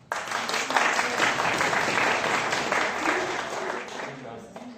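A comedy club audience breaks into loud applause that holds steady for several seconds, with some voices mixed into the clapping.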